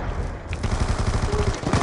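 Rapid automatic gunfire in the video game Call of Duty Black Ops 2: a dense, continuous burst of shots, loud and close, lasting about two seconds.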